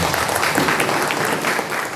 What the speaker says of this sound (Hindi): और एक जोरदार तालियों के साथ मैं विदा लेता हूं।